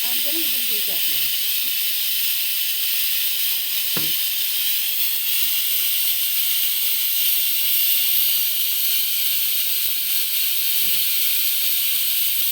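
A pressure cooker with its whistle removed vents a strong, continuous hiss of steam, close and unbroken, while someone talks briefly at the start and again later.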